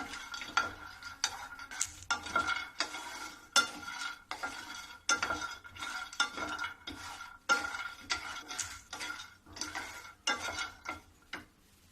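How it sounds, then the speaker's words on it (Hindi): Sesame seeds with melon seeds roasting in a dry pan over a low gas flame for sesame barfi, giving a quiet run of irregular small clicks, scrapes and stirring taps against the pan with no one talking. "अब ये तीनों के मैं भूंजूंगी धीमी गैस पे"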